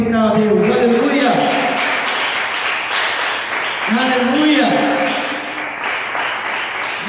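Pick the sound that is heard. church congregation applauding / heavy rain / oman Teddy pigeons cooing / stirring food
church congregation applauding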